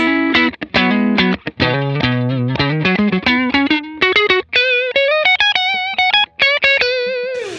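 Dry, compressed electric guitar played through a Line 6 POD Go Wireless, funky single-note lines and chords, close and punchy with no reverb tail, notes cutting off cleanly.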